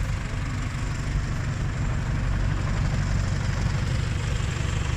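A vintage Marshall tractor engine runs at a steady idle in an outdoor yard, a low, even, continuous rumble that stays level throughout, with no one speaking.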